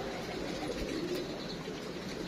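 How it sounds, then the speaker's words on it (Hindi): Saharanpuri breed pigeons coo softly in a low, burbling murmur, faint and somewhat distant against a steady background. "इन कबूतरों को सहारनपुरी ब्रीड कहा जाता है।"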